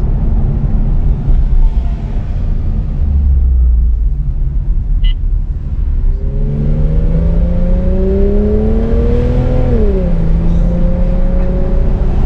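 A Porsche 911 with a Fister exhaust pulls away from a stop in traffic, first a low idling rumble, then a loud engine note climbing through the revs with a gear change near the end, heard close from inside the car.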